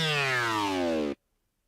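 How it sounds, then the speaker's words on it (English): An aggressive synth preset named Smashing Your Face In plays one sustained, buzzy, harmonically rich note with a downward pitch slide, loud and alone, cutting off abruptly after about a second. "This is, as the preset name suggests, a very aggressive sound"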